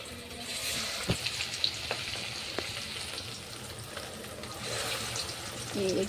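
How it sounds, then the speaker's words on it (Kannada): Fish frying in hot oil hiss with a steady, moderate sizzle, broken by a few brief clinks and soft handling sounds. "ಈಗ ಬಡ ಬಡ ಫ್ರೈ ಮಾಡ್ಕೊತೀನಿ ನೋಡ್ರಿ ಎಷ್ಟೊಂದೀಗ ಫಿಶ್ ಫ್ರೈ ಆಗ್ಲಕತ್ತವ"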